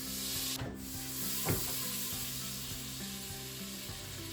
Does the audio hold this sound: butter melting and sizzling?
yes